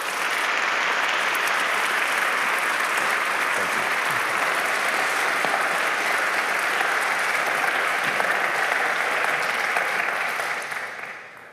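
An evening lecture audience applauds warmly to welcome the Reverend Mark Birch, a dense, sustained clapping from a large crowd that holds steady for about ten seconds before tapering off at the end.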